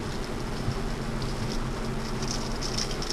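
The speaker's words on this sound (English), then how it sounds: "rainy morning" Steady rain falls on a rainy morning, a soft continuous hiss with faint scattered drops, fairly quiet and with no voices.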